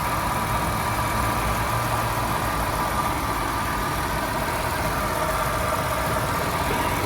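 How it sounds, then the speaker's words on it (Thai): Steady, unbroken idle of a repaired Honda Accord 3.0 engine running smoothly, close by and even in level for the whole stretch with no shakes or surges, and no voices. "เครื่องนิ่งครับ"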